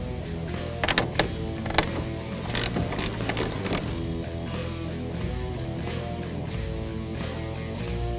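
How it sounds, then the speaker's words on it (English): Three taillight retaining nuts on a 2005-2009 Ford Mustang being removed by hand with a ratchet, giving a steady run of close mechanical clicking and pawl chatter with a few sharper knocks, no talking. "Now we're going to remove the 3 retaining nuts"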